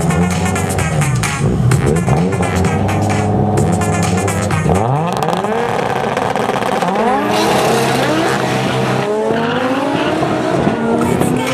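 Mercedes and Audi coupe race cars on a track, engines loud and revving hard with repeated rising and falling pitch sweeps and tire squeal, continuous close roar throughout.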